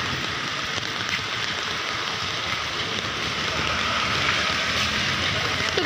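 Steady rain falling outdoors during a monsoon walk, a continuous close hiss with pattering on surfaces, no talk.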